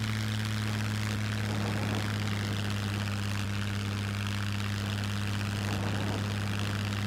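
Propeller airplane engine from the video game SCUM drones at a steady, loud pitch at low throttle, running continuously with no speech over it.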